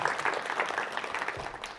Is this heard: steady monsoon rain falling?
no